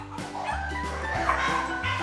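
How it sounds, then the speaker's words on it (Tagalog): Several dogs, among them French Bulldogs kept for breeding, bark in quick, overlapping yips and woofs, close and fairly loud, with no talk. "ang mga asong tumatahol dito"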